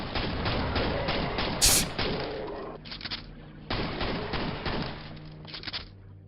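Rapid gunfire and thudding blasts from the Quake video game, a Brutalist Jam 3 map, come in dense bursts with brief pauses, including a sharp higher crack near the two-second mark, all loud and close.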